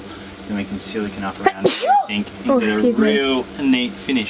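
A single sharp sneeze bursts out during a kitchen fit-out inside a Toyota Coaster bus conversion, landing between steady conversational speech from nearby voices.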